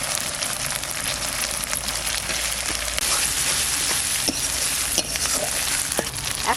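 Ginger, garlic, chilli and spices frying in a pan: a loud, continuous sizzle with sharp crackles and occasional scraping taps from stirring, close up and without pause.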